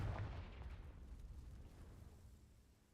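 A booming blast from the Confringo spell in a video game, opening with a loud low-frequency burst and fading into a rumbling decay over a few seconds.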